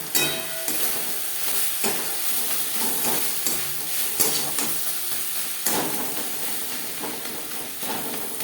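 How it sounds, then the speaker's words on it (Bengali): Onion, spices, salt and turmeric are stirred together in a hot pan for a spicy rohu fish curry. A continuous sizzle carries repeated close scraping strokes of the spoon, with no talking. "মশলা ও পেঁয়াজের সাথে লবণ হলুদ বেশ ভালো করে মিক্সড করে দেবো"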